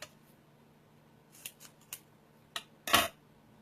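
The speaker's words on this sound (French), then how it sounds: "C'est des ciseaux" Scissors cutting card at a papercraft table, several quiet, crisp snips spaced irregularly and ending in one louder, longer cut, close by with no talk.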